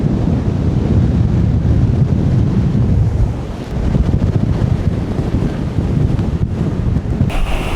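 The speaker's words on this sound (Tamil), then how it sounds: "பா என்ன காற்று." Strong wind buffets the microphone on a boat ride near Manly Beach in Australia, a loud continuous roar with gusts and swells and water washing underneath.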